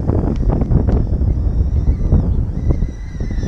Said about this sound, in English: I'm outside and it's kind of windy.